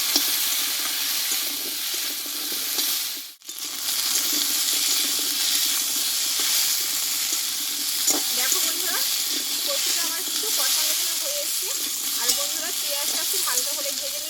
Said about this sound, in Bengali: কচুটা আমি মিনিমাম দুই থেকে তিন মিনিট মতো ভালো করে কষিয়ে নেবো